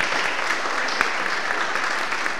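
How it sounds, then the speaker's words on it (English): An audience at a discussion event breaks into full, continuous applause for the guests, a thick wash of many hands clapping at once, loud and even, with no one speaking. "one more round of applause for our guests"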